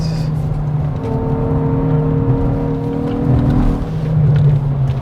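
Hyundai i20 N engine running steadily from inside the car while driving, a loud continuous drone with shifting tonal pitch that rises and swells toward the end as it revs.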